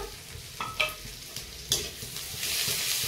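Ginger garlic paste frying in a pan, a steady close sizzle broken by a few scraping stirs of a spoon against the pan, growing slightly louder toward the end.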